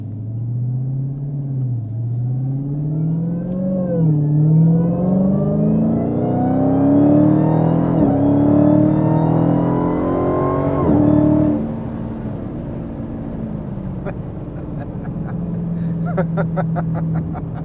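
A 2018 Dodge Challenger SRT Demon engine revs and climbs in pitch through several gears as it launches, roaring loudly up close, then eases off into a lower rumble with faint clicks.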